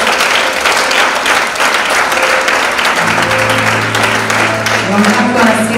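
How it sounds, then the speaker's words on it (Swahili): Church congregation clapping loudly and continuously in praise, dense applause throughout with sustained sung or spoken tones rising over it in the second half. "Ongeza makofi kwa Yesu"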